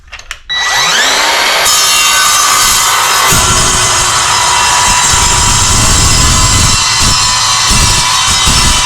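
An Evolution R185SMS-Li cordless 7-1/4 inch sliding miter saw spins up with a rising whine, then bites into 1.5 inch square 11 gauge steel tube with a loud, sustained screeching cut that carries on steadily to the end.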